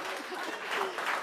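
A brief burst of crowd applause, dense clapping with a voice faintly mixed in underneath.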